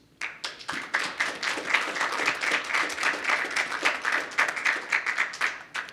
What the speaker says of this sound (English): join me in thanking these very, very fantastic panelists with a resounding round of applause